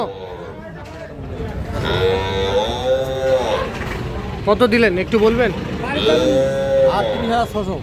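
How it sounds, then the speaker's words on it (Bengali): A young bull calf moos repeatedly at a busy cattle market. The long, loud calls rise over crowd noise while people talk nearby. "এই পাশে একটা সার বাছুর দেখতেছি"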